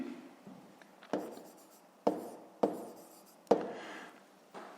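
A pen writes on paper while a 5th-grade maths exercise is worked out, a few distinct scratchy strokes and taps with short pauses between them, close and quiet.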